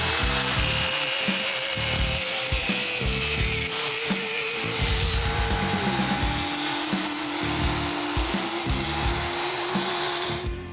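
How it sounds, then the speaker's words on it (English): A cutoff tool grinds steadily through a splined shaft during suspension work on an old Chevy truck, a loud sustained whine with pitch dropping under load and rhythmic scraping, no talk. "And we'll just go grab the cutoff tool."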